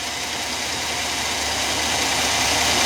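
A Chevy Astro van engine runs at a steady idle after an ignition coil and module repair, a constant close rumble with broadband hiss and no voices.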